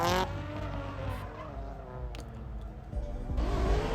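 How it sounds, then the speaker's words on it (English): A Toyota Tacoma drift truck roars close by at a car show event, with engine noise and squealing tires, the sound surging and shifting as it slides. "Yes, that is a Tacoma drift truck."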